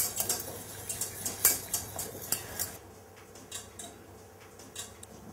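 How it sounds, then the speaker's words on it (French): Utensil stirring softened gelatin into hot milk in a bowl, with light scraping and clinking strokes that are busier in the first half and then slow to sparse taps, close by with no talk. "Elle va fondre et on va pouvoir mélanger la gélatine à l'intérieur."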